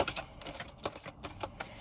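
Oversized tarot cards shuffled sideways by small hands, a quick run of crisp papery riffles and taps at an uneven rhythm, close and fairly loud with no talking.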